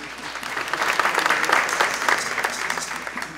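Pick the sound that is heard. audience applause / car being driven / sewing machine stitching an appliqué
audience applause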